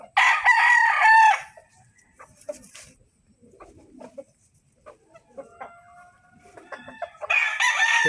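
A rooster crows loudly near the start and again at the end, with scattered clucks from white bulik hens and faint farmyard noises in between.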